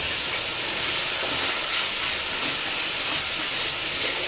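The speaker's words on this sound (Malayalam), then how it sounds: "ഇനി അതിലേക്ക് നമ്മൾ കട്ട് ചെയ്ത് വെച്ച ഇഞ്ചി അതിലേക്ക് ആഡ് ചെയ്തു" Chopped ginger fries in hot coconut oil for puli inchi, giving a loud, steady, even hiss of sizzling that carries on without a break and with no talking.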